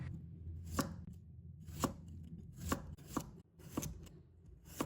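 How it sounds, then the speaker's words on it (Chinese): A knife slices half a cucumber into thin slices on a cutting board, sharp chopping strikes landing at a steady, unhurried rhythm of about one per second, close and alone. "再准备半根青瓜，把它切成薄片。"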